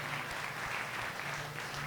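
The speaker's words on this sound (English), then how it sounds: "Give our staff a big round of applause, please." Audience applause for the staff at the close of a Mother's Day special show, a steady, even wash of many hands clapping, heard faintly and continuously with a low hum beneath.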